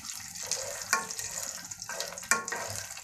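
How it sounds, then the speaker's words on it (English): Cashews and peanuts frying in a pan while making semiya upma, with a soft continuous sizzle broken by a few sharp clinks and stirring scrapes, close and moderately loud. "let's add cashews and peanuts"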